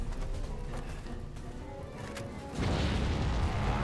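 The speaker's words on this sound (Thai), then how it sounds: "นั่นระเบิดแล้วล่ะ ระเบิดโคตรเบา" A muffled, low rumbling blast from set charges in the video game Resident Evil 6 erupts partway through and lingers as a heavy roar over quiet background noise.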